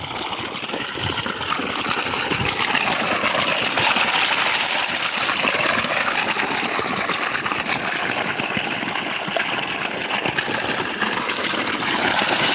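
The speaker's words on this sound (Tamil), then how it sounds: "இப்போ ஓரளவுக்கு பரவாயில்ல தண்ணி பாருங்கள் நல்லா வருது" Water gushes from a borewell pipe on a farm where spinach is grown, a loud continuous rushing stream with a faint engine-like hum beneath it.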